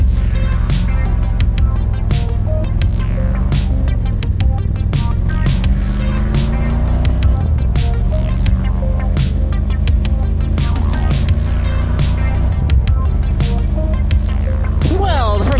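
Motorcycle ridden on the road on the way to breakfast, a steady low engine drone and road rumble running throughout with periodic sharp ticks, loud and continuous.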